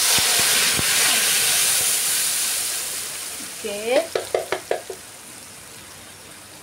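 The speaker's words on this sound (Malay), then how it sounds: "dalam minyak yang sama kita akan tumis bahan yang kita blender tadi ya" Blended chili paste for sambal terong udang balado hits hot frying oil with a broad steady sizzle and hiss, then a run of sharp stirring scrapes and clatters near the end; a voice briefly speaks at the start.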